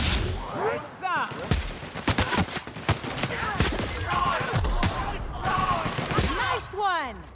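Rapid gunshots in The Outer Worlds on hard difficulty: repeated sharp cracks in quick bursts mixed with whooshing, swooping energy-weapon effects, loud and close throughout, with some talk underneath.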